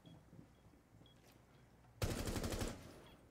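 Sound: gunfire in Rainbow Six Siege video game

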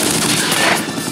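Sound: gunfire in the video game Uncharted: Drake's Fortune

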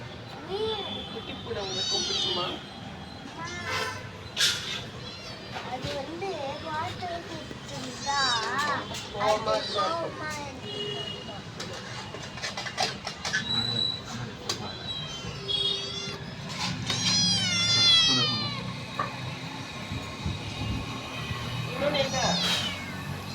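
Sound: cat meowing

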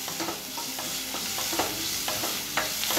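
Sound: onions frying in a pan

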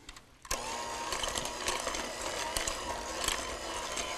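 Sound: electric mixer beating cheesecake batter with sour cream

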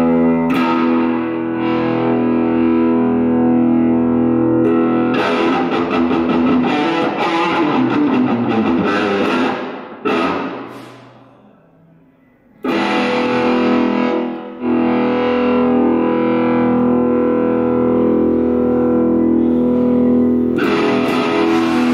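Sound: electric guitar through tube amp with dirty distortion

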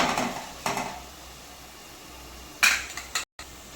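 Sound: chicken added to frying masala and tomato pulp in pan

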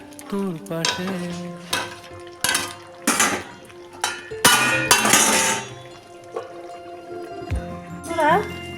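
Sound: covering pot of potato, pointed gourd and prawn curry with lid

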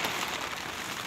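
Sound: heavy rain falling on a rooftop

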